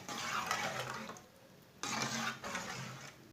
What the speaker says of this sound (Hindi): 1 प्याली पानी डाल लेंगे। पानी डाल के इसे 5 मिनट के लिए पका लेना।